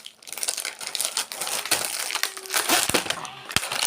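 A Halley white-chocolate snack wrapper being torn open and crumpled, giving close, loud, continuous crinkling and rustling with sharp crackles near the end.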